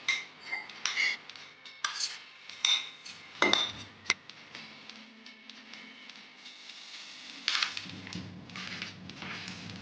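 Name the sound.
mixing nuts into ghee-sautéed dates in a pan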